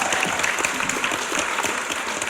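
Audience at a talent-search callback applauding, close and loud, with dense continuous clapping and distinct individual hand claps throughout, no talk over it.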